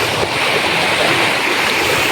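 Floodwater in Jajapur, Odisha, pouring into houses makes a loud, steady rushing wash of moving water, close by and with no speech.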